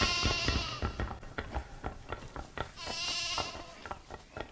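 Lambs bleating in the Emerald Wilds video game, several short wavering bleats repeating close by over soft clattering hoof steps, with some cries overlapping.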